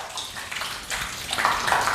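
Water rinsing over car panels treated with Collinite, Jescar and Bouncer's wax, a continuous hissing spray that swells and ebbs in waves, fairly close and with no talking.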